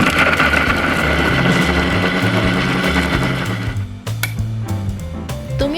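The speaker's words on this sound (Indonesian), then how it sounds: "Masukkan semua bumbu dalam blender untuk dihaluskan." A blender grinds a spice paste for durian tempoyak sambal, a loud steady motor whine with a churning, fluctuating pitch that shifts near the end, no speech.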